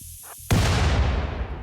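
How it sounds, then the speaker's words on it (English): A turret blown up by a hunter trap in the RimWorld video game: after a couple of short game clicks, a single sudden explosion bursts out loud and rumbles on, slowly decaying over about a second. "Hunter trap, come on, blow the turret up with me."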